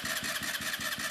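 A motorcycle engine cranks without catching, a steady run of rhythmic pulses from the starter turning it over repeatedly, close and fairly loud with no speech.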